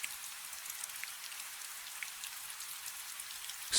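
Soft, steady rainfall with fine crackling drops pattering on a surface, faint and continuous.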